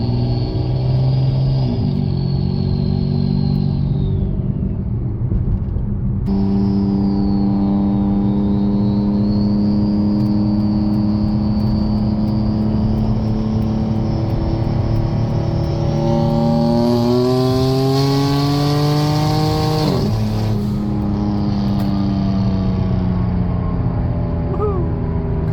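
A loud Corvette engine pulls hard in second gear up a highway on-ramp, its pitch climbing through long revving sweeps with a sharp peak and drop near the end, close and dominant throughout.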